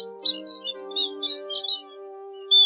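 Recorded Chim Ri Đá birdsong used as a trapping lure: a clean sequence of short, high chirps and tweets repeating over a sustained tonal drone, clear and alone.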